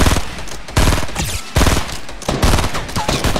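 Bursts of rapid automatic gunfire in a Fortnite Battle Royale match, several loud rattling volleys with brief gaps between them, close and dominant.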